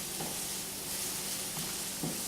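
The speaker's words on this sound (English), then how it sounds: "I'm going to let these shallots saute until they're soft and transparent" Shallots sauté in a pan with a steady, soft sizzle and hiss throughout, broken by a few faint clicks of stirring.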